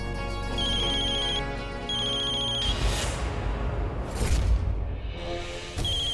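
A phone ringtone plays a looping electronic melody, loud and close, with a burst of clattering noise partway through.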